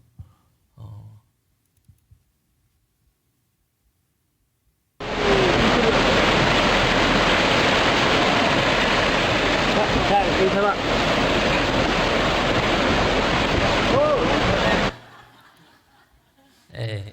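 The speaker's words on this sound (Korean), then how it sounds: "이거를 폭포가 펑펑 솟아나는데 얼마나 깨끗한지" Spring water, fed from Mount Hermon and seeping underground, gushes out like a waterfall. A loud, steady broadband rush starts abruptly, holds for about ten seconds, then cuts off.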